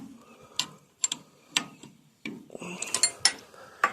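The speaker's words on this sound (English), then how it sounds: "can bring the wrench up like this, turn it over, get even more leverage, and bring it up again." Wrench ratcheting and clicking as an alternator bolt is tightened on an Oliver 70 tractor: several sharp metallic ticks in separate bursts, then a quicker cluster of clicks, close and moderately loud with no talking.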